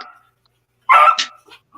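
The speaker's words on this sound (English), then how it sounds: "Yes, that's a dog you hear." A puppy with separation anxiety barks once or twice sharply at close range, then gives a softer yip, in an otherwise quiet room.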